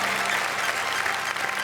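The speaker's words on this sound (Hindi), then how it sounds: "ये आपके लिए, पूरे देश के लिए घनघोर तालियां बजाने का वक्त है" Loud, steady applause from a stage-show audience fills the whole short stretch, dense clapping with a faint crowd murmur beneath and no pauses.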